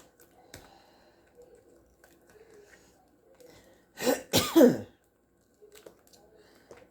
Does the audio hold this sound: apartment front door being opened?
no